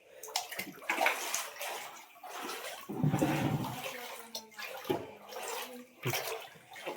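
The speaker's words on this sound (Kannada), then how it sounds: "ನೀರು ಬರ್ತಾ ಇರೋದು ಮನೆ ಒಳಗಡೆ" Rainwater from a heavy downpour in Mandya pours into a flooded home, a steady rushing and sloshing flow that rises and falls, with a voice talking faintly underneath at times.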